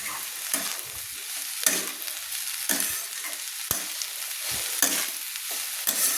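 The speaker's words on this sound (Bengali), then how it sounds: "আমি বাঁধাকপির আদার সঙ্গে ভালো করে আমি বাঁধাকপিগুলোকে নেড়ে নিচ্ছি।" Cabbage with ginger and ground spices is stirred in a hot pan, a sizzling hiss broken by repeated scraping strokes of the spoon at an uneven, steady pace, close and moderately loud.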